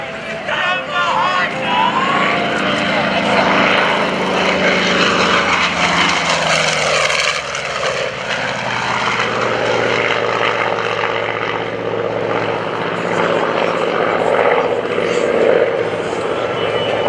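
A Douglas A-1 Skyraider's big radial engine, a 3350 producing over 2,700 horsepower, roars steadily and loud for a long stretch at an airshow, its deep propeller drone shifting slightly as it passes close by.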